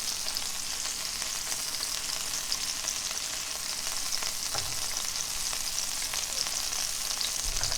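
Garlic and pepperoncini sizzle steadily in a pan over low heat, a dense, even frying hiss that runs without a break, close up and with no talking.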